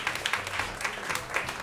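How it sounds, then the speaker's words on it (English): A small audience claps in loose, uneven bursts, a moderate scattered patter of hands close by, brief and without talk. "Now you can clap super loud because he's out of the room."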